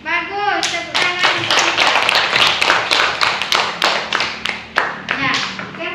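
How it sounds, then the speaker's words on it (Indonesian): Children in a classroom clap together after a teacher's prompt, a loud run of sharp, fairly rhythmic claps close by, with a voice heard briefly at the start. "Bagus, tepuk tangan"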